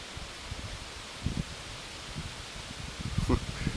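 Gusty wind buffets the microphone during a maiden flight of a light ZOHD Drift RC plane in heavy winds, a steady broadband rush with a few stronger bumps near the end.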